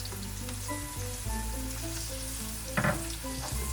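Tofu and vegetables with red chilies, kaffir lime leaves and lemongrass sizzle and crackle steadily in a pan for a tom yum dish, with an occasional scrape of stirring, close up and with no talking.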